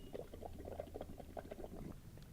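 Air is blown through a straw into a glass of water mixed with a drop of dish soap, making a soft, continuous bubbling gurgle close by.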